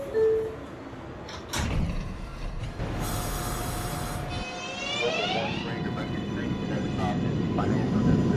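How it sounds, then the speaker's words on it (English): A New York City subway 1 train at Chambers Street, Manhattan-bound: loud door chimes ring out as the doors slide shut, followed by the rising whine of the train pulling away. "Stand clear of the closing doors, please."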